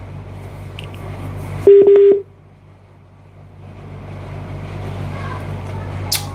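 A short burst of telephone dialing tones, several quick keypad beeps in a row over a steady low background hum, followed by quieter room noise.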